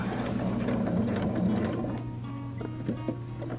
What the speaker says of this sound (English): With a jeans needle. Back stitching. On a Baby Lock Jazz 2.